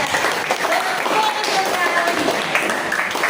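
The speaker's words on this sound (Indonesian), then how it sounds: "Kasih tepuk tangan sama Medan." A classroom of students applauding a classmate, dense continuous clapping filling the room at close range.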